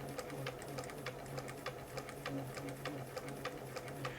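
A Bernina 930 Record electronic sewing machine runs a basting stitch, giving a quiet, steady motor hum with evenly spaced ticking stitch clicks throughout.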